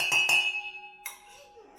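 A microwave bell rings out clearly with a clean, sustained metallic ding that slowly decays, framed by brief voices and kitchen clatter at either side.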